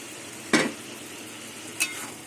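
Fish head and lentil dumplings are dropped into bottle gourd cooking in a pan, giving a low simmering sizzle with two brief clatters or scrapes, close and quiet, no talk.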